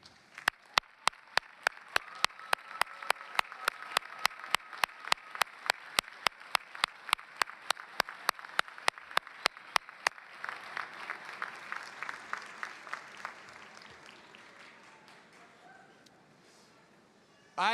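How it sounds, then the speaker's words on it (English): An audience at a university commencement ceremony breaks into applause for graduates' families and friends. Rhythmic clapping at first, then looser, overlapping clapping that fades gradually to near quiet, heard from a moderate distance. "give them a round of applause"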